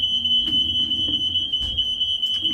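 A kitchen smoke alarm beeps continuously with a piercing high tone, loud and steady, with faint background noise underneath.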